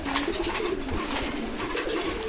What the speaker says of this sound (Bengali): এখানে সবগুলো নর কবুতর, সবাই খাবার খাচ্ছে।